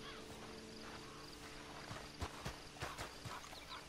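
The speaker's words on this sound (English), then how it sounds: "Then you better get on this horse." Horse hooves clip-clop in Red Dead Redemption 2, a soft continuous walking rhythm under a low ambient bed, with several sharper hoof strikes standing out near the end.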